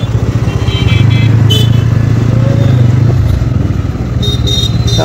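A Bajaj Pulsar N160 motorcycle idles steadily at close range as it is brought to a stop and parked at a busy market, its low engine hum continuous throughout, with faint traffic and horn sounds around it.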